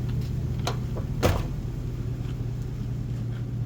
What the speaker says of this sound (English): now, shut that door.